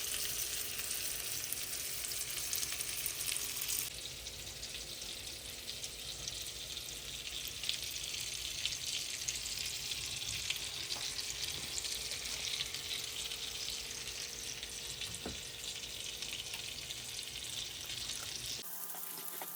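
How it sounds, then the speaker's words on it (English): Well-seasoned salmon fillets sear in a hot skillet with a loud, steady broadband sizzle that runs unbroken for the whole stretch, a few faint clicks and scrapes in the pan, and no one speaking. "get your well-seasoned salmon fillets into the skillet and let them brown on both sides"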